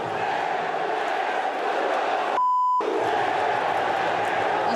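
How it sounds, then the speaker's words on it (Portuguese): Vasco football supporters in a stadium chant insults at their coach Maurício Barbieri, a loud, continuous roar of massed voices broken partway through by a steady censor beep. "Temos a torcida do Vasco xingando o técnico Maurício Barbieri"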